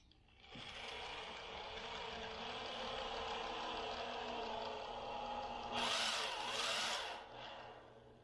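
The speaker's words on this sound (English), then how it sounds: "But hopefully get all these screws in here nice and neat without splitting the wood." Power drill driving screws into the corners of a wooden frame, a sustained close whirr that holds steady for several seconds, then rises into a sharper, higher burst near the end before winding down; no talking.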